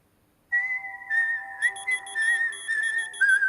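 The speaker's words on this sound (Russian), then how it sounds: "Нашел я композицию со свистом" Recorded music with a melodic whistle played back from a speaker, a sustained wavering whistled tune with harmonics starting abruptly and continuing steadily, close and clear with no talk.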